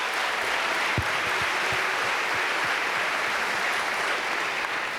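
Sustained applause from a conference audience at a summit forum, a dense steady wash of clapping with scattered cheers, loud and unbroken throughout.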